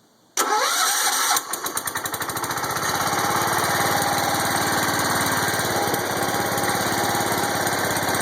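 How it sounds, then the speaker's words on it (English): A John Deere 140 Hydro lawn tractor's small engine cranks and catches abruptly, sputters briefly, then settles into a loud, steady running drone close by. "So let's start it up and see if we still don't have any creep."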